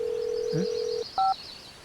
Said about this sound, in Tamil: மிஸ் கால் கொடுத்துருக்கேன்